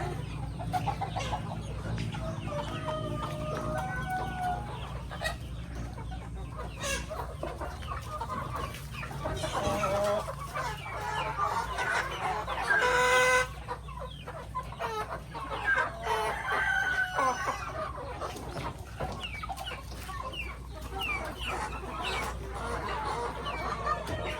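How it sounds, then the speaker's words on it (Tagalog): Native chickens on a farm: hens cluck steadily throughout, and a rooster crows loudly around the middle, with farmyard bird calls continuing near and far. "pinapakain po namin dito sa mga manok para hindi din sayang"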